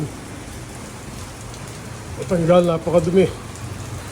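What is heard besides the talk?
heavy rain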